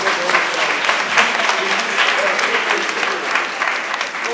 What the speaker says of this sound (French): Applaudissez encore pour moi.